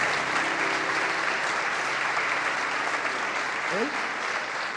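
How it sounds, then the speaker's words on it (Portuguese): Sustained, lively applause fills a church congregation, dense clapping steady and loud throughout with a brief voice rising near the end. "Então vamos dar uma salva de palmas bem animada para Jesus."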